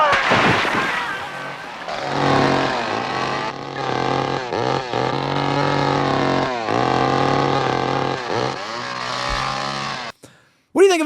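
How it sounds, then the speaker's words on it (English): A chainsaw from a Texas Chainsaw Massacre film revs loudly and close, its harsh buzzing engine surging and dipping in pitch over about ten seconds before cutting out abruptly. "they didn't even have to tweak the audio of the fucking chainsaw"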